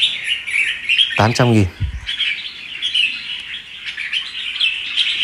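A caged bird for sale chirps in quick bright bursts close by, with someone talking over and between the calls.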